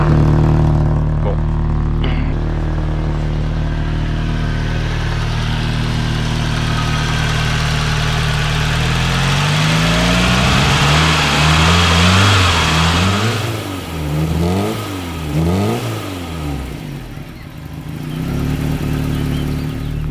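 A running engine idles steadily in a cheap used car, with its low hum continuing throughout and a wavering, rising-and-falling drone toward the end.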